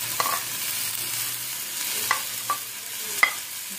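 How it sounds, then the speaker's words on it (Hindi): Fresh spinach goes into a cooking pan with chicken and vegetables, and a close, steady frying sizzle runs under several sharp clinks and scrapes of a spoon stirring against the pan; no talking. "अब इसमें डालेंगे हम पालक।"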